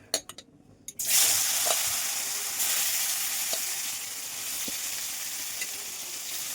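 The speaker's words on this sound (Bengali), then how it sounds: "এবার এই তেলের মধ্যেই এই আলু ভাজাগুলো যে কেটে রেখেছি এগুলো দিয়ে দেবো" Sliced potatoes drop into hot oil left from frying pointed gourd, which bursts into a loud sizzle after a few clicks and then settles into a steady, close frying hiss with faint stirring taps.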